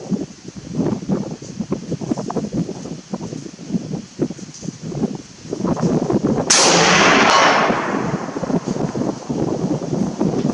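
A single loud report from a Vz 54 rifle cracks out midway through the clip, followed by a decaying echo. Wind buffets the microphone outdoors on a shooting range throughout.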